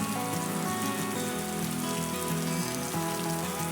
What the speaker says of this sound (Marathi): आता जोरदार पावसाला सुरुवात